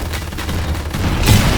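Gunfire and booming explosions from the sci-fi shooter Silica during a night battle against bugs, a steady dense rumble of distant fire with a heavier blast near the end, no talking.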